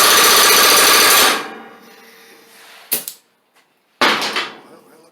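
Air-powered high-torque tool on a compressor during a Craftsman LT2000 mower deck rebuild: a loud burst of hissing air that cuts off, then two short sharp pneumatic bursts, with quiet gaps between.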